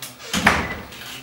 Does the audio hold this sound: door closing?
yes